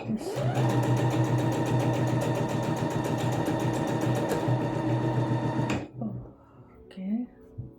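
A home sewing machine stitches in one continuous, loud, buzzing run for several seconds, then stops abruptly, leaving faint handling noises afterward.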